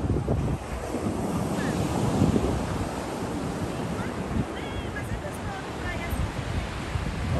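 Ocean waves and surf wash steadily onto a deserted beach at Marobá, Presidente Kennedy, Espírito Santo, with continuous broad roar, gusty wind buffeting the microphone, and faint distant voices of a few swimmers.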